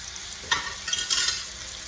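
Apple-stuffed pork chops frying in a pan on an old coil stove, a steady sizzle with a couple of brief louder crackling bursts, close up and with no talk.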